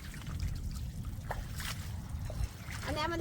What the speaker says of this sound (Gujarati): એટલે પાણી ખેતરમાંથી પાણી વીયું જાય એટલે